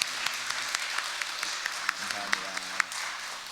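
Applause from a church congregation during a Korean worship service, a broad sustained patter of many hands with scattered sharper claps, moderately distant and filling the room under faint background voices.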